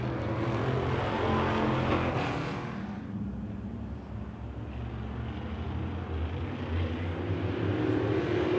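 Modified race cars roar around a dirt oval at a Wissota Midwest Modifieds feature, a dense, steady engine drone from the pack that dips slightly as cars pass and swells again, loud and continuous.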